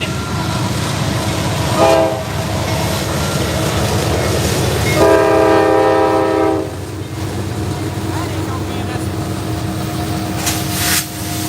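A long freight train led by a leased locomotive rolls past at a railroad line in Lilly, Pennsylvania, a steady loud rumble of wagons with two horn blasts sounding partway through, nearby and continuous.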